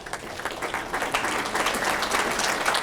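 Applause from a gathered audience at a centenary club reception honouring the King and Queen of Sweden, as guests are introduced; steady, fairly close clapping throughout, no voices over it.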